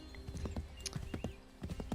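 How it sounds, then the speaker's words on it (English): Horse hooves galloping in a video game: rapid rhythmic clip-clop beats, fairly faint, with a soft whinny-like tone mixed in. "luckily we get fast horses in this game."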